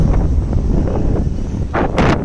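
Steady low wind rumble buffets the microphone throughout at the Arras Christmas market in France, with a couple of brief hissing gusts near the end.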